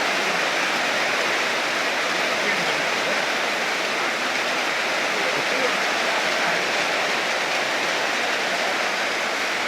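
Rain pours heavily in a constant hissing wash, with rainwater splashing as muddy feet and a motorbike are rinsed clean; the dense, even downpour holds steady and close for the whole stretch.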